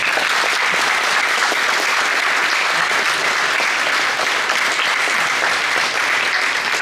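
A crowd at the Retromessa 2023 gaming convention gives a loud, dense, continuous round of applause for a video game music composer.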